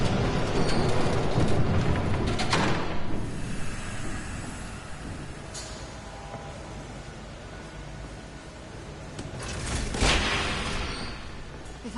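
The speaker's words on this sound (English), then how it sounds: "There's a train coming." A train rumbles past in the Batman Telltale Series video game, loud and noisy at first, easing off, then surging again with a second loud rush near the end.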